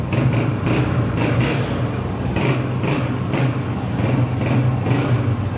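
A used Honda 125 motorcycle at a bike dealer runs loud and close, its engine holding a steady throbbing note with regular pulsing swells and no talking over it.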